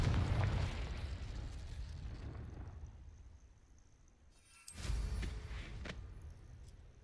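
A Confringo fire spell exploding in Hogwarts Legacy: a loud burst that rumbles and fades, then a sharp second blast with a crackling tail, with no talking.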